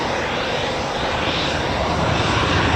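Eurofighter Typhoon FGR4 jet at RAF Coningsby, a loud, dense continuous roar of jet engines filling the clip, steady and close with no talk.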